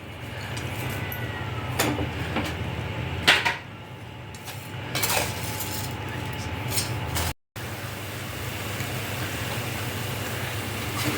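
Khoa, dry fruits, milk, sugar and food colour are stirred together in a pan for double ka meetha. The mixing makes a soft, steady scraping patter with a few sharper clinks of utensil against the vessel.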